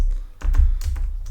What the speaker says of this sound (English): Good typing today, Kevin.